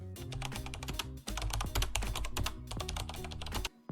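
Rapid typing on a computer keyboard, close and clear, with dense irregular key clicks in quick bursts and one brief pause.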